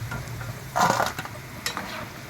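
Fried ivy gourd pakodas are lifted out of hot oil onto a plate: a steady sizzle of deep frying runs throughout, broken by a few close scraping and clattering strokes of a slotted spoon.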